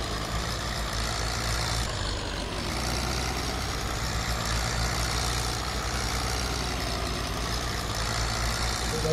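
A Farmtrac 60 tractor engine in Farming Simulator 22 runs steadily, a continuous heavy diesel drone with a low rumble, close and even for several seconds, with no talk over it.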